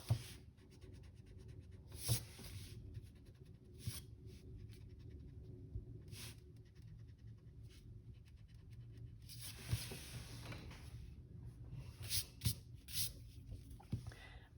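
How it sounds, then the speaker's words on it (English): An eraser rubs out pencil lines on paper in short, quiet scrubbing bursts separated by pauses, close and soft in a still room. "Now I can erase the lines I don't need."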